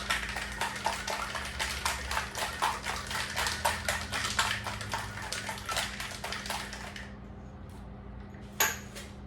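A cocktail shaker packed with ice and watermelon gets shaken hard, producing a rapid, even run of bright rattling clacks that stops abruptly, followed by one final clink.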